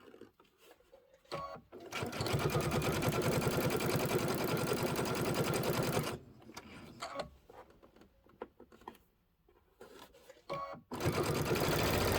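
Sewing machine stitching a Kimberbell Cup of Cheer quilted project with ribbon, running in two steady whirring bursts of rapid needle rhythm with a quieter pause between them.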